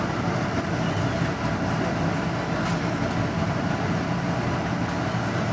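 Inside a moving Taroko Express tilting train in Taiwan, a steady broadband rumble and rushing roar, close and continuous, with faint clicks and no talk.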